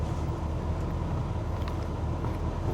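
A GMT400 Chevrolet Suburban's engine holds a steady low rumble as the truck shifts into four-wheel low, the drone continuous and fairly loud throughout.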